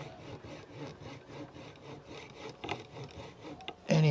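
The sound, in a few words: coping saw cutting wood on a guitar neck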